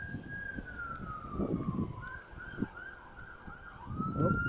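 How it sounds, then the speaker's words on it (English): A police car siren wails from a distance on a downtown street in Regina, its pitch sweeping as the car passes, heard over footsteps and low street noise. "police car going that way"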